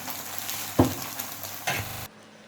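Chicken macaroni with vegetables in a creamy white sauce is stirred in a pan, with two distinct scraping strokes over a soft sizzle before the sound cuts off abruptly.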